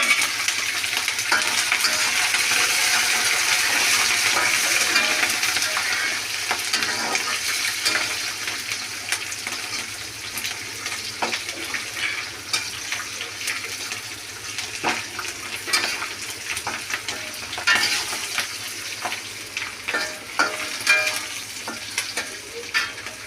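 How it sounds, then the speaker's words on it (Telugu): Finely chopped green chillies are added to a hot tempering with fried peanuts for mango pulihora, making a loud, continuous sizzle with intermittent stirring clinks and scrapes close by. "ఇందులో సన్నగా తరిగి ఉంచుకున్న పచ్చిమిర్చి కూడా వేస్తున్నాము"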